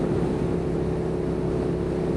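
A Suzuki SFV650 Gladius V-twin motorcycle engine runs at a steady, loud, continuous drone with a deep throbbing hum and no speech over it.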